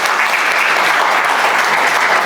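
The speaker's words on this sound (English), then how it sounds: "please give a good hand of applause for Rutvi" A panel discussion audience on AI and cloud careers gives loud, dense applause, a steady close wash of clapping from many hands with no voices over it.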